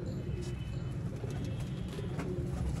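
A Sialkoti pigeon, a cross with red eyes and a black face, coos softly and repeatedly at close range over a low rumbling background.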